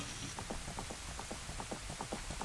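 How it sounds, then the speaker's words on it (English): Steady rain pours down in Ocarina of Time, a continuous hiss with soft, regular droplet patter throughout, fairly faint and with no voices. "It's raining. It's pouring."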